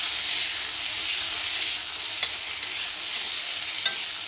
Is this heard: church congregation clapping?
no